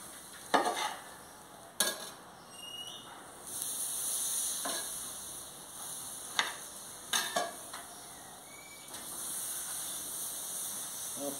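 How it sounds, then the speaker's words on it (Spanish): Green chiles and a halved tomato roast on a very hot comal with a quiet, steady sizzle, broken by several sharp clacks and scrapes as they are placed and turned, and no one talking. "Y ahora ya voy a asar los chiles con el tomate."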